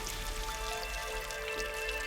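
Steady rain falls throughout as a sound effect in a radio advertisement about declining rainfall in Perth, a dense, even patter with scattered drops and no voices.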